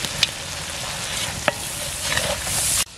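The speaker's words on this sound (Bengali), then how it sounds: "মশলাটা ভালোভাবে কষিয়ে নিয়েছে, এখন ঝোলের জন্য জল দিয়ে দেবো।" Spices stir-fried in a pot over an outdoor picnic fire crackle in a steady, close sizzle with a couple of sharp spoon clinks, before the sound cuts off abruptly.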